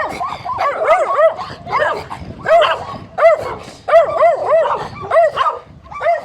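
Several dogs bark, yip and whimper continuously at close range, the calls overlapping in an excited, uneven chorus with no pause throughout.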